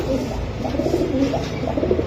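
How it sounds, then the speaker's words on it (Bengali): Pigeons coo in low, throaty bursts, close and steady, with a pair of birds, a young female and a male, held for sale at a pigeon market stall. "ভাইয়া 2 পিস কবুতর আছে এই জায়গায়।"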